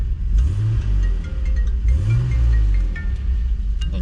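A BMW E34 engine runs close by, a loud low rumble whose pitch rises and dips in a couple of gentle revs, steady throughout with faint rattles and no talk over it.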